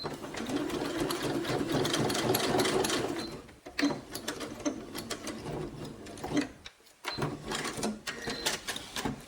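A domestic sewing machine runs in fast bursts, stitching a zipper into fabric, with a long steady whir at first, then shorter stop-start runs separated by brief pauses; close and clear, no talking.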